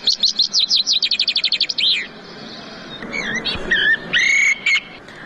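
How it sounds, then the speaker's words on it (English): A chaffinch sings alone and close, a rapid descending series of bright repeated notes ending in a flourish, followed by a few scattered calls and whistled phrases. "Here's a chaffinch, for example."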